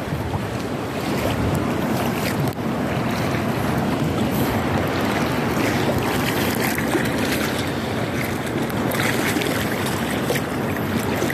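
Steady rushing surf and wind noise, constant and fairly loud throughout, with no voices.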